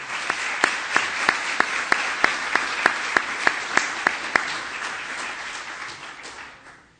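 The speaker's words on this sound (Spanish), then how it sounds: "Fuerte el aplauso para nuestro distinguido ponente." Audience applause for a distinguished speaker at an electoral law conference: a bed of crowd clapping with a sharp, evenly spaced run of loud nearby hand claps on top, fading out over the last seconds.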